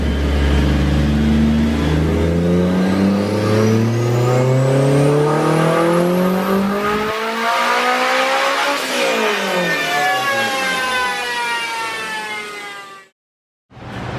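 Turbocharged K20 race car engine on pump-gas tuning, revving hard through rising harmonic sweeps to high RPM, then letting off with a falling whine before a sudden brief cutout near the end; loud and close, no talk.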